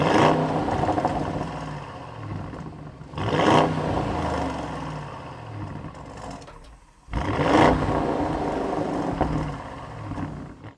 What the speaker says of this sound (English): that beautiful exhaust note is gonna be from this twin turbo 4-liter V8 engine